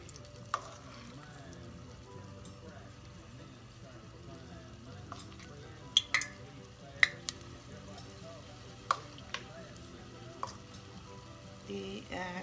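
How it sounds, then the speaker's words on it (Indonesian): Fermented cassava (tape singkong) frying in hot oil in a pot, a soft steady sizzle and crackle with scattered sharp pops and clicks of a utensil, fairly quiet and close. "Saya goreng lagi di panci supaya minyak tidak kemana-mana."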